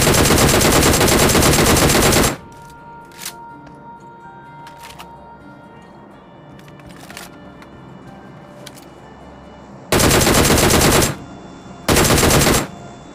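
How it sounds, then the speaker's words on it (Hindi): A DP-28 light machine gun in PUBG fires long, loud sustained bursts at a boat, one burst of about two seconds, then a pause with low ambient noise and a few faint distant shots, then two more short heavy bursts. "अभी देखो उस बोट के ऊपर फायर देता हूँ, लेकिन भाई डीपी की गोली कितना ही ड्रॉप हो रहा था"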